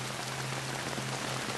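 Steady rain pours down in a scene from the film Stranger Than Fiction, a dense, continuous hiss over a low hum, with no voices.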